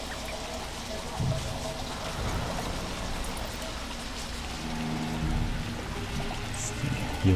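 Flowing water in Dishonored 2, a steady broadband rush like pouring or splashing water that continues throughout at moderate loudness, with faint game sounds around it.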